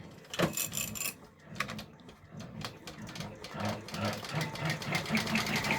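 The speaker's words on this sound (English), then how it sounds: "So I'm going to go ahead and unlock, let it do all of that stitching." A Brother embroidery machine stitching a freestanding gingerbread bridge design, a quiet rapid mechanical whirring and clatter with a steady rhythmic pulse, running alone without speech.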